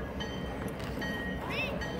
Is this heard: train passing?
yes